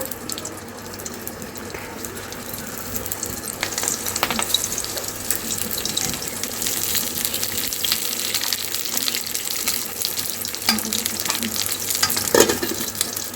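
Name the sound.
frying leaves in hot oil for paneer paturi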